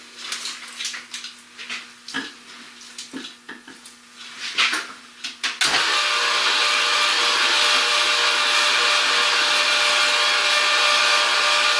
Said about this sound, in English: So I'll grind everything through at once, switch plates, and then grind through again.